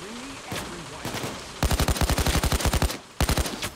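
Rapid automatic gunfire in Payday 2 aimed at a sniper: a fast, loud burst of evenly spaced shots, a short pause, then a second shorter burst, with a game voice briefly heard before.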